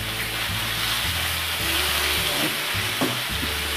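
Onion and capsicum being lightly sautéed in a pan for chilli mushroom, producing a continuous loud, close sizzle with occasional soft stirring scrapes and low clatters.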